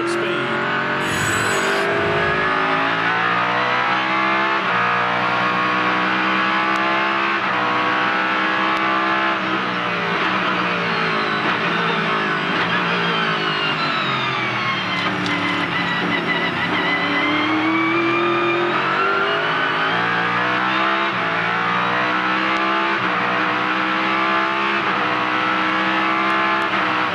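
On-board sound of a Lexus-engined race car in the 2004 Grand Am Porsche 250, engine screaming to about 8,000 rpm and shifting through its 6-speed gearbox, loud and continuous with rising and falling revs.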